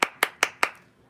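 Four sharp, close hand claps in an even, quick rhythm, each one crisp and separate, fading out at the end with no talking.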